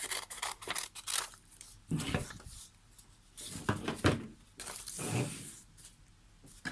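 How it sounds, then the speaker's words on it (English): Several short, crisp snips and rustles of book paper being cut with scissors, spaced irregularly, close up, with brief handling noises between them. "the excess is fold that across and cut off with some scissors."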